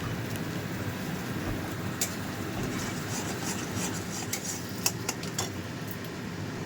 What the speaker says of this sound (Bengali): সব কটা মশলা দিয়ে ভালো করে কষিয়ে নেব